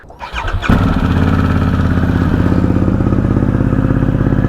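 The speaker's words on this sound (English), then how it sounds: "this Akrapovic pipe has a nice deep tone to it" A Harley-Davidson motorcycle cranks briefly, then fires up and settles into a loud, deep, steady idle through a throaty aftermarket Akrapovic exhaust.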